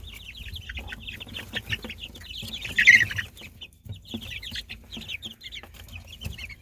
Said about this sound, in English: These are baby chicks.